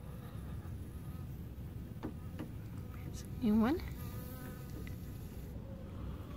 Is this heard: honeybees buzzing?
yes